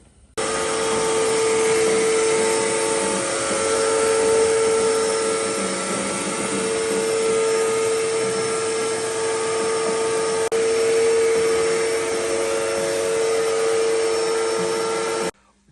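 A power sander works steadily on fiberglass and gel coat on a taxi roof, close and loud, running almost unbroken for about fifteen seconds with a constant whining tone.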